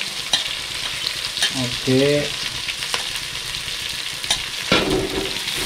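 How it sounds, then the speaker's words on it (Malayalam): Sliced onions and green chillies fry in oil in a kadai in a hostel kitchen in Munnar, giving a steady close sizzle broken by sharp scraping stirs, while a voice speaks briefly in the middle. "നമ്മൾ ഉള്ളി ഏകദേശം വഴന്ന് വഴന്ന് വരുന്നുണ്ട്."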